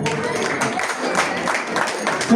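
Applause from the audience at a Dhangar Gadariya community ceremony honouring talented students and seniors, a steady dense clapping that fills the whole stretch without pause.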